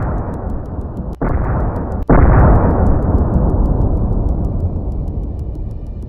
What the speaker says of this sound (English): a HIMARS precision strike destroyed it